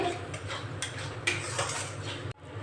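Spices being stirred in a cooking pot for veg biryani, with ground coriander, black pepper and biryani masala; a utensil scrapes and clinks steadily against the metal, close and moderately loud with no talking.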